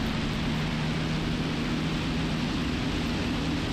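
A Piper Archer's engine roars at full takeoff power with flaps down, heard from inside the cockpit as a loud, steady broadband drone with a low hum beneath it, continuous and unbroken.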